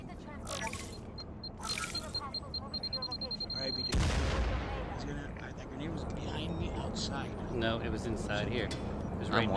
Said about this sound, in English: The grenade landed right in front of me.